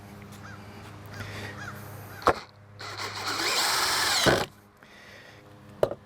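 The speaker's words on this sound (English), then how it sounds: "I'm going to put the screws close to the edge here so that they're attaching well." A power drill drives screws into an outdoor end table board, with one steady whirring burst of about two seconds, sharp clicks before and after, and crows cawing faintly outdoors in the background.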